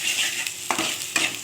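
A spoon scrapes and stirs chilli powder spice mix through hot oil in a frying pan, with two or three distinct scraping strokes over a soft, steady sizzle, heard close up.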